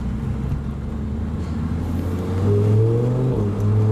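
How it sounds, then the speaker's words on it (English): A convertible car drives along with a steady engine drone, then revs up, the pitch rising loudly and holding strong near the end, with no voices. "driving a convertible for the first time"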